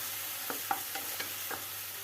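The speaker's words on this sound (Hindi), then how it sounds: "अब इसमें बारीक कटे हुए टमाटर डाल दें और टमाटर को मीडियम आंच पर 2 मिनट अच्छे से फ्राई कर लें।" Finely chopped tomatoes frying over medium heat in a pan for dal palak, a low steady sizzle broken by a few soft, regularly spaced spatula taps and scrapes as the mixture is stirred.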